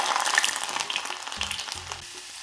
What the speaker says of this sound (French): après avoir rajouté l'ail, je rajoute le gingembre.